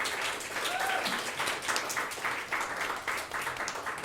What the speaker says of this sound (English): We get another round of applause for how awesome that first time through was right there